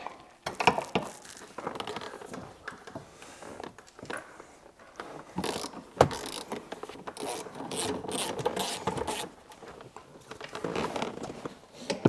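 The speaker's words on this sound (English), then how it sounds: "The seats come out of the car with a T50" Rasping, ratcheting scrapes and rubbing clicks as T50 seat bolts are worked loose inside a Mini Cooper F56 JCW, coming in short irregular bursts with quiet gaps, close and moderately loud.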